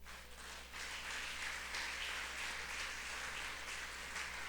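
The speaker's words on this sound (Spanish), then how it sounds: "Denle un aplauso al Señor." Congregation applauding during an evangelical church service, a steady wash of clapping held at an even level throughout, fairly quiet with a low hum beneath and no voices over it.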